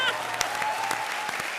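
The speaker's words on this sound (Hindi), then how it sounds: "जोरदार तालियां" A studio audience at a comedy show claps in a steady burst of applause, dense and continuous with sharper individual claps standing out, while a faint voice carries underneath.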